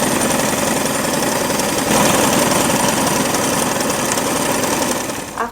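Sewing machine stitching a felt fabric label onto a fabric hair bow, a steady, loud, fast mechanical whirring with dense rapid needle rhythm running continuously, then stopping abruptly near the end.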